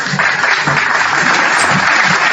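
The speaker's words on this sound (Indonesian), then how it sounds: "Tepuk tangan dulu" A gathered congregation or audience at a sermon claps briefly on cue, a close, steady patter of many hands lasting a couple of seconds, without speech over it.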